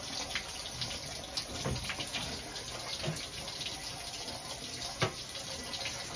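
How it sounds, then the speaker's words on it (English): Water runs steadily from a leaking Gerber three-handle tub and shower faucet that can't be turned off, a close, constant hiss and splash with a few soft knocks and no talking. "we can't get the water off right now."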